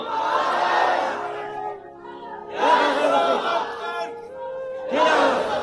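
A large crowd shouts the takbir in unison, three loud, swelling bursts of massed voices separated by brief pauses, at a Bengali religious sermon gathering.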